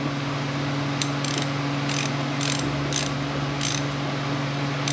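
A ratchet clicks in short repeated bursts while turning T30 Torx bolts on a 6F35 transmission start-stop motor, six or so ratcheting strokes spaced about half a second apart over a steady low hum.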